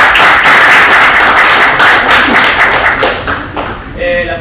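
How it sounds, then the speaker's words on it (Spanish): An audience at an education discussion session claps for a speaker, brisk, close hand claps that taper off, with a voice starting up at the end. "Damos las gracias a don Alejandro y le damos un aplauso."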